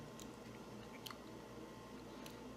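Quiet, close chewing of Burger King crispy fried chicken tenders, with soft crackling bites and squishy mouth sounds, no talking.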